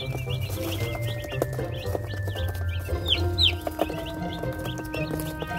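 Newly arrived Cornish Cross chicks chirp and peep continuously in a brooder, many small overlapping calls close by, with a low steady hum underneath.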